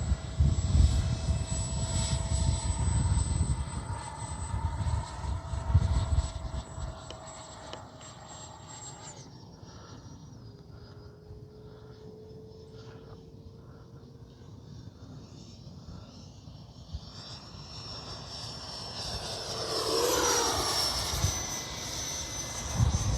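A Freewing F-22 Raptor 80mm electric ducted-fan RC jet flies past, its steady high whine rising and falling in pitch as it climbs away, fades, then sweeps back in louder.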